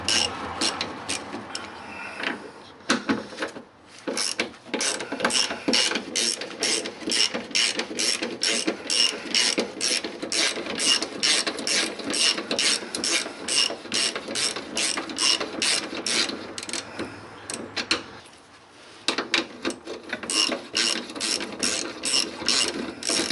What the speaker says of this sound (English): now what I'm going to do is start undoing these the four bolts at the side